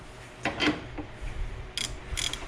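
A 13 mm ratchet loosens the battery tie-downs on a Jeep Wrangler TJ: a few short bursts of clicking and metallic rubbing, close by, quiet, with pauses between turns and no talking.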